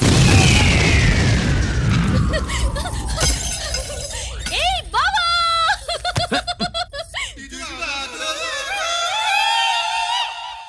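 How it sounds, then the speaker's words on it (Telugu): A whistling rocket-like sweep followed by a rapid series of loud firecracker pops and bursts, then crackling and chirping sounds as the noise settles. "ఫోర్నాలు బాంబుల్లా ఫేలిపోయినాయి ఏంటి?"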